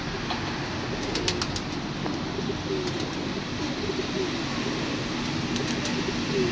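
Two pigeons sit on a net and coo softly at a distance over a steady outdoor background rumble, with a few faint bird chirps scattered through.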